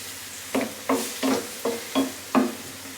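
Fresh tomatoes are stirred in a pan as they cook for a sauce. Six soft, evenly spaced scraping strokes carry a light sizzle, close and fairly quiet.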